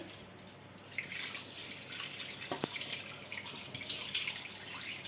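Water is poured into a bowl of black chickpeas and a little rice set to soak, making a steady splashing rush for several seconds, close and fairly quiet.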